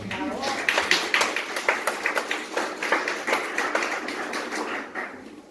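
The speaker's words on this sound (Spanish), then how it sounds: "Denle un aplauso" An audience at a church leadership training class gives a round of applause: steady, rhythmic clapping from a group of people, moderately loud and lasting several seconds before fading out.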